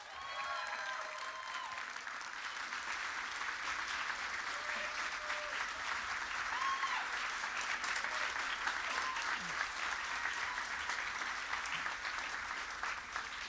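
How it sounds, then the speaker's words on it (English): A packed convention room at a fantasy-author Q&A session breaks into sustained applause, a thick continuous roar of clapping that holds strong for the whole stretch, with faint voices and a few whistles mixed in. "let's give him a round of applause"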